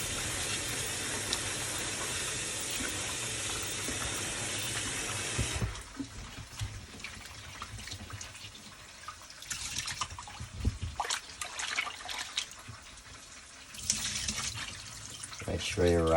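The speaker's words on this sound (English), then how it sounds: "Gotta wash your rice." Tap water runs steadily into a sink as rice is washed, the stream rushing loudly at first and then splashing and trickling more unevenly as the grains are swirled, with a voice talking over it.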